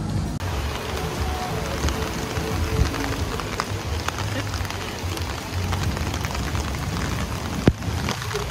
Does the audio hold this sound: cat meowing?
no